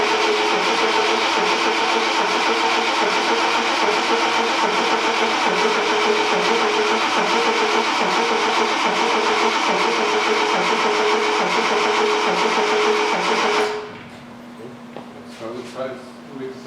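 A 1973 Triumph TR6 under restoration cranks over without choke, a loud, close, rhythmic churning that runs steadily for about fourteen seconds, then stops abruptly, leaving faint rattles and quiet background.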